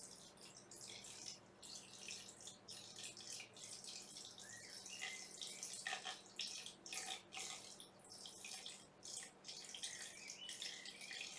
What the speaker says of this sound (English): You just keep pouring until you know that it reached the top of the pearls